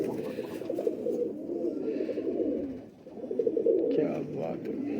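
Pigeons, a male and female pair of battery kabootar, coo in soft repeated throaty rolls close by, running steadily through the few seconds with a brief dip midway.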